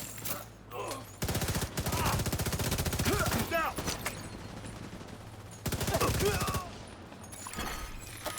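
Rapid automatic gunfire in a video game, two long sustained bursts of machine-gun fire aimed at an enemy's shield, loud and close, with a brief lull between them.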